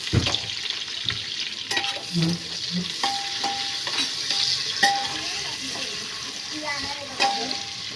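Chopped onions frying in a pan for chicken biryani, stirred steadily until browned: a continuous close sizzle with scraping strokes of a spoon against the pan, no voices.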